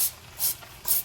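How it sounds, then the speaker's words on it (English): Nonstick cooking spray aimed at a baking tray for salmon, three short hissing bursts in quick succession, close and crisp against a quiet kitchen background. "I'm gonna spray it with nonstick cooking spray."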